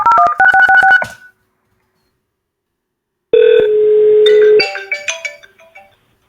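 Touch-tone telephone dialing on an Elastix PBX extension calling its own mobile, a rapid run of short DTMF beeps followed after a pause by a steady ringback tone and then a few more tones, loud and alone.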